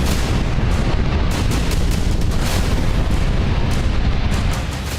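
A heavy explosion blast sound effect roars continuously for the whole stretch, loud and rumbling, with repeated booming surges layered over one another.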